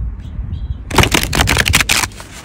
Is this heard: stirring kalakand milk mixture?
no